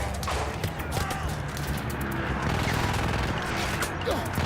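Rapid, continuous gunfire from the World War I shooter Battlefield 1, a dense wall of shots and battle noise running steadily without a break for the whole stretch.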